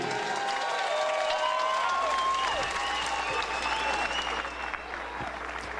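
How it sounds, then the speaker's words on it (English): Arena crowd at a professional boxing match applauds both fighters after the bout, a loud sustained roar of clapping and cheering with whistles and shouts rising throughout and easing slightly near the end. "let's have a nice round of applause for both fighters, please"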